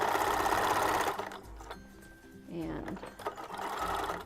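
A sewing machine stitches in fast mechanical bursts, loud at first, pausing briefly, then running again, while a person talks quietly nearby.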